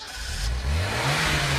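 A rental car engine revs up in Tunis, starting as a low rumble and climbing into a rising, sustained growl that stays close and loud to the end.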